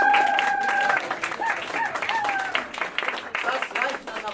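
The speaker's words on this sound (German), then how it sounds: "Das reicht ein Applaus für diesen Dilettanten" An audience applauds a magician's show in a club setting, a crowd clapping with voices and bright tones at the start.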